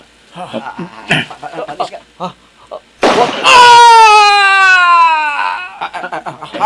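Talk is cut by a single sharp, loud gunshot, followed by a long wailing cry before talk resumes.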